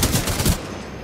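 Spitfire machine gun in Titanfall 2, heard as a rapid, loud burst of automatic fire lasting about half a second, followed by a fading tail.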